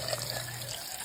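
Water is poured into a cooking pot for a soup dish, a close, steady splashing and trickling rush that runs unbroken for about a second.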